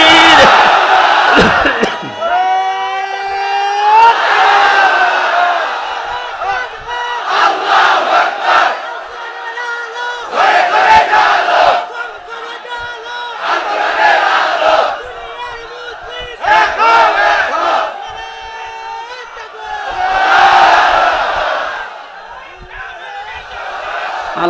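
A large crowd at a Bangladeshi religious gathering shouts Allahu Akbar in answer to a takbir call, in loud, repeated unison chants separated by short pauses, with a lead voice calling between them.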